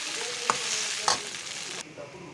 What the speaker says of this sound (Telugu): ఇప్పుడు మనం ముందుగా కడిగి పెట్టుకున్న అటుకులను కానీ దీంట్లోనే వేసేసుకుందాం. వేసేసుకునేసి కొద్దిగా వేయించుకుందామండి.